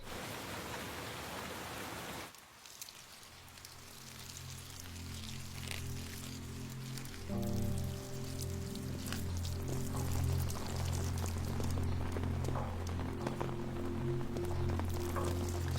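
Steady rain falls throughout, a dense hiss that stays loud and continuous in a Tang dynasty drama scene, with tonal music entering and layering over it after a couple of seconds.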